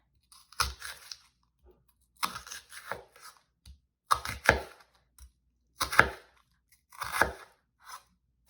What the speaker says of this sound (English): when chopping the onion, we're going to make just little grooves down the line